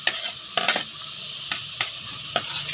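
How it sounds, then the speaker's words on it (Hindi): Finely chopped onion and green chilli fry in ghee with a steady close sizzle, broken by several sharp scrapes and clinks of a spoon stirring the pan. "थोड़ा इसमें घी डाल के इसको आपने फ्राई करना है।"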